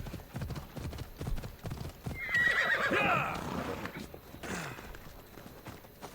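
A horse in Assassin's Creed Odyssey clops along with rapid hoofbeats and lets out a loud whinny midway, galloping under faint game ambience.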